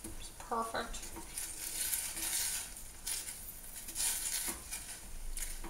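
Food is stirred in a pan outdoors with faint scraping and soft clinks, a few brief utensil taps and a low sizzle beneath, all quiet and close.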